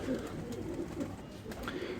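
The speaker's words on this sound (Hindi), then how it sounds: "ये चीना कबूतर है" A China-breed pigeon cooing softly among other pigeons, low murmuring coos under a steady background hum.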